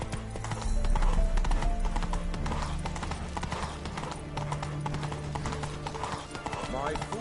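Geralt's horse Roach gallops in The Witcher 3, rapid rhythmic hoofbeats with a brief whinny. Game music plays underneath and a voice speaks over it.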